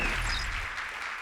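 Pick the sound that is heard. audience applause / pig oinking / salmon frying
audience applause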